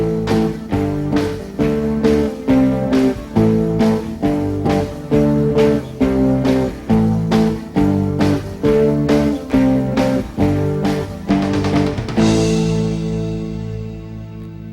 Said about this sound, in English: we're going to strum down twice on each chord